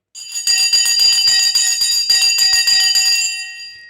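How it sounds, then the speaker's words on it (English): A stock market opening bell rings rapidly and continuously for about three seconds, a bright metallic clatter that starts sharply, stays loud and then decays into a short ringing tail. "The bell has now gone."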